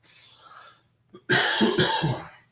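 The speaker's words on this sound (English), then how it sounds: "Sorry about that cough." A single harsh cough bursts out close to the microphone after a quiet moment, loud and abrupt, with a second hack following.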